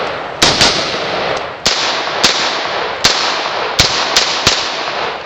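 An AR-15 pistol firing .223 rounds outdoors, eight sharp, violent cracks of muzzle blast at uneven intervals over a steady background rush, loud and close.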